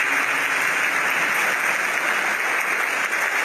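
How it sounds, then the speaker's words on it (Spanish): Brief, loud burst of applause from an audience at a talk for young people, dense and continuous clapping with no pause, heard close up. "Un aplauso para que se anime ella"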